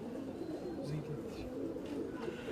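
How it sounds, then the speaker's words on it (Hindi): Sialkoti pigeons on a rooftop coo softly in low, rolling calls, partly masked by steady background noise and a voice talking nearby. "मगर हैं ये सियालकोटी कबूतर ही"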